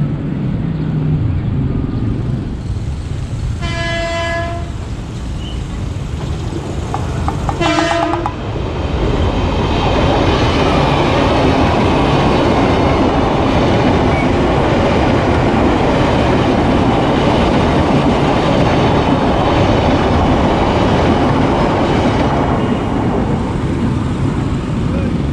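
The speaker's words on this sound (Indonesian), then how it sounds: "Kereta dari arah barat. Keretanya udah klakson-klakson." A KRL electric commuter train near Bojong Indah in Indonesia gives two bursts of its horn, then thunders past close by with a loud, sustained rumble and rhythmic wheel clatter.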